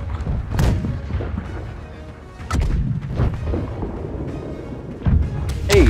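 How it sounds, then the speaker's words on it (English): Heavy booming ship cannon shots in the video game Blackwake fire in irregular bursts, several deep blasts over a constant low rumble. "Need to keep these cannons firing."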